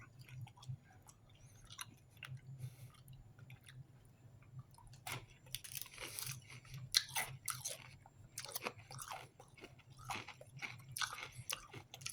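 Someone bites into crunchy chocolate-covered snacks with a light, crisp coating and liquid filling, followed by repeated close crunching and chewing bursts, faint and intimate against a low hum, with no talking.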